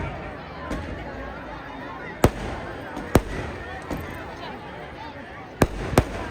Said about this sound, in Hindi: आतिशबाजी चालू करें